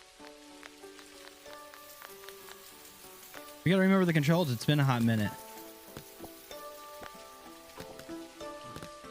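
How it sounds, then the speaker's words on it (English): Steady soft rain patters in the farming game Dinkum, with light chiming game tones and someone talking over it partway through. "All right, so it's raining."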